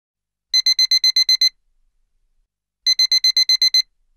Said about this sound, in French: Une fois de plus, comme tous les jours, mon réveil me réveille.